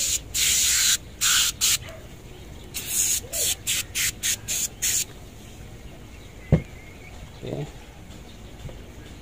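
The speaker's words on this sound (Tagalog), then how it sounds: "dito na lang i-spray natin ha" An aerosol spray is aimed inside a motorcycle helmet in a series of loud hissing bursts, a long one followed by several short pulses, with quiet handling noises afterward.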